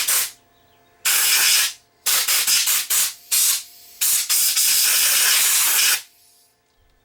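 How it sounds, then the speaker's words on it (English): Compressed air blasts dust out of a Sony DHR1000 DV VTR tape deck that will not load tapes, in loud hissing bursts of varying length with short pauses between them, and no voices heard. "Let me just get my air compressor and we'll blow out any dust and see whether there's something that's sticking."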